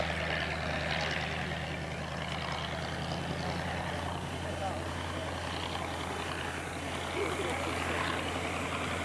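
Fieseler Storch propeller aircraft landing at an air display at Old Warden, its engine a steady droning rumble throughout, moderately loud and continuous.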